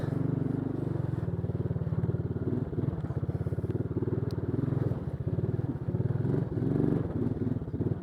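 A Bombardier Traxter 500 ATV, held in high gear, lugs slowly over slimy creek rocks. Its engine gives a low, close, steadily pulsing rumble with slight clattering as the load shifts.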